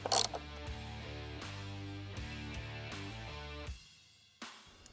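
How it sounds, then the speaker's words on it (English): A ratchet with an extension and 10mm socket clicks steadily as it removes the emblem nuts on a Ford F-150, a close, even run of ticks that stops abruptly, then a short final click. "There's 3 nuts holding on the emblem, so you just have to stick an extension and a 10mm through there to be able to access it."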